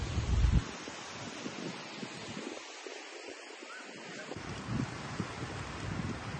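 Steady sea breeze at Side Beach in Turkey, a broad continuous wind rush with gusting microphone buffeting, loudest at the start and easing in the middle, with no voices.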